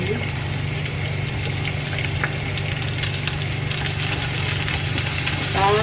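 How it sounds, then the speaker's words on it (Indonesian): Sliced shallots, garlic and ginger stir-fry in a hot pan, giving a loud continuous crackling sizzle with occasional spatula scrapes and a low steady hum beneath. "Kita gongsong sampai harum"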